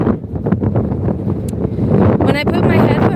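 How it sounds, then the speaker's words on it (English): Gusts of wind rumble against the microphone, loud and continuous, with a brief rustle and whistling sweep near the end. "Sorry, it's kind of windy."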